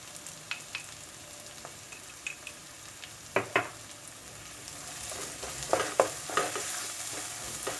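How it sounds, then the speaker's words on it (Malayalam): Spices with Kashmiri chili and coriander powder sautéing in a pan for dum aloo: a soft, steady frying hiss under a spoon scraping and clinking against the pan in scattered bursts, growing busier toward the end. "ഇതൊന്ന് നന്നായിട്ട് വഴറ്റുക"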